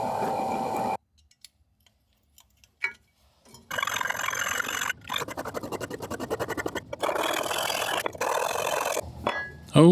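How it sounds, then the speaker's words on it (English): Rasping strokes of a hand file scrape metal teeth on a handmade tool in uneven bursts, separated by short silent pauses, close and fairly loud. "Then a bit of filing to clean up those alligator teeth."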